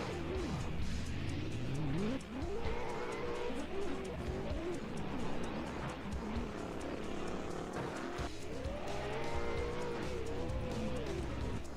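Two BMWs, an E92 in the lead and a G87 chasing, drift in a virtual racing game on Nemunas Ring, their engines revving and wailing with tire squeal under ongoing commentary.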